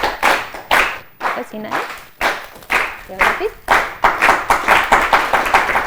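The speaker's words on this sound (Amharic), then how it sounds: "በደንብ አድርጋችሁ አጨብጭቡላችሁ።" Children on an Ethiopian kids' TV show clap their hands in applause, with repeated bursts of close, lively clapping and voices talking between them.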